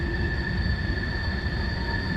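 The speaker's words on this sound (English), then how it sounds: "Of course, when I'm not rail fanning, a train goes by." A CSX manifest freight train with four locomotives rolls past near Ohiopyle, Pennsylvania, giving a steady, continuous rail rumble with faint high wheel tones throughout.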